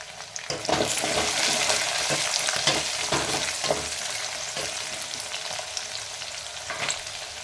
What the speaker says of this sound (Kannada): ಒಂದು 2 ನಿಮಿಷ ಎಣ್ಣೆ ಒಳಗೆ ಫ್ರೈ ಆಗಲಿ ಅವರೆಕಾಳು